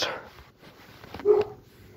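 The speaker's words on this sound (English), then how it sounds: "Dogs barking, that's okay." Dogs bark a couple of times at moderate distance in a quiet room, short sharp yelps rather than a sustained chorus.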